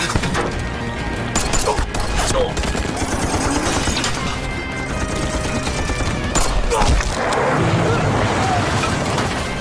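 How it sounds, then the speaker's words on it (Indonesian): Heavy gunfire in an action film, sustained bursts and loud cracks pouring in from two directions, with dense booms and rattling volleys filling the whole stretch at close range. "Di sini John diberondong ratusan peluru dari dua arah"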